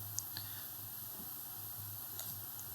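A mouse button gives a few quiet, faint clicks over a low, steady background hum.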